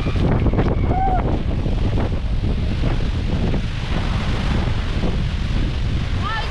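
Strong wind roars and buffets the microphone beside a 60 m waterfall in Iceland in winter, with a dense, continuous wash of spray and falling water close by.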